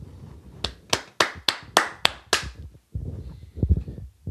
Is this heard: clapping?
yes